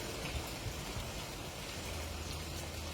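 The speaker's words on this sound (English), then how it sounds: "I actually recorded it while it was raining yesterday" Steady rain falls outdoors, a soft, even hiss of drops spread across the whole clip with no voices, recorded while sitting quietly in the rain.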